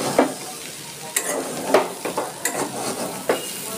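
Chana matar being stirred with garam masala powder in a pan, a soft continuous sizzle broken by several sharp scraping clinks of the spoon against the metal at irregular intervals.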